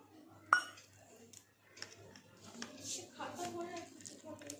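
Cups and dishes clink faintly as tea is poured and served, with a sharp clink near the start and people talking quietly throughout.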